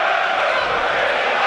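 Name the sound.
away football fans shouting and cheering at Pride Park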